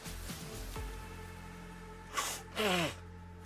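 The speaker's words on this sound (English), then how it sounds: "I sneezed 4 times." A person sneezes twice in quick succession, close and fairly loud, against a quiet indoor background with no talking.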